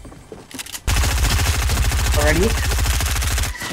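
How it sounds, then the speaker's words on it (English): Rapid automatic gunfire in the video game Fortnite rattles in a dense, loud burst lasting a few seconds, with a player's voice briefly speaking over it. "So many gunshots."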